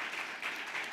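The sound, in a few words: applause from event audience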